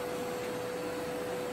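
An electric vacuum cleaner drones nearby with a steady motor whine and airflow hiss, unchanging over a short stretch with no talking.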